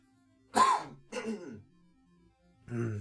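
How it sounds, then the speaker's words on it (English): A person clears their throat twice in short, separate bursts close to the microphone, followed by a brief low vocal sound, in an otherwise quiet room. "Just needed to clear my throat."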